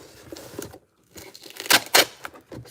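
Tape being torn and cut while making a costume: a few sharp ripping and crinkling bursts, close and fairly loud, with a brief pause between handling sounds.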